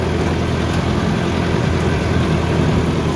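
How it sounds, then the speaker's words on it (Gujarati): A Japanese-made tractor engine runs at a steady, close low rumble, an unbroken droning idle with no voices over it. "મેડ ઇન જાપાનની કંપનીનું ટ્રેક્ટર છે"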